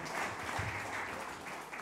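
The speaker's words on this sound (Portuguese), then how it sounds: "Então dê uma salva de palmas a Jesus" A church congregation applauds during a worship service, dense steady clapping heard from a distance, moderately quiet.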